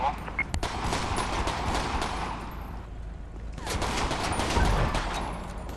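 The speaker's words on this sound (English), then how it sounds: "That's another mag I just unload, bro." Sustained gunfire in GTA 5 during a police mod patrol, a dense rattling volley that runs almost continuously, briefly dips, then resumes, with talk mixed underneath.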